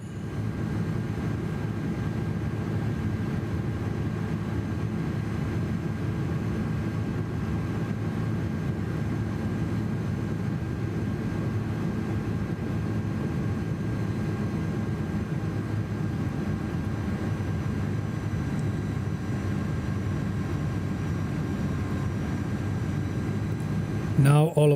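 iniBuilds A330 airliner cruising in MSFS 2024, a steady low engine drone and rumble that holds evenly throughout, with no talk over it.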